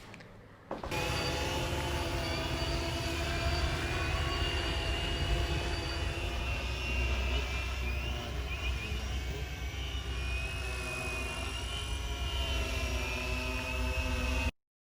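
A steady, loud roar of an aircraft engine holds evenly for about fifteen seconds, then cuts off abruptly, with no talking over it.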